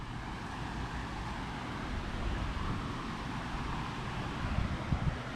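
Breeze blowing outdoors in a park sounds like a steady broadband rush of wind, with microphone buffeting and a faint traffic-like rumble, continuous and fairly loud, with no talking.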